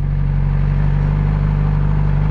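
A motorcycle engine runs loud and close with a steady, throaty drone as the rider feeds it throttle while pulling away, with no other sounds over it.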